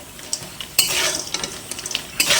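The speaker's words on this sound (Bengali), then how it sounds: "কাঁঠালের বিচন ভাজা হয়ে গিয়েছে।" Jackfruit seeds fry in a pan while a utensil stirs them, scraping and clinking against the metal in irregular strokes over a steady, close sizzle.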